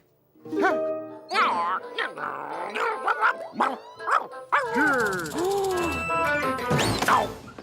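A cartoon dog in a Garfield episode yelps and barks in an excited, irregular series, mixed with clattering mechanical effects and a crash, fairly loud and busy.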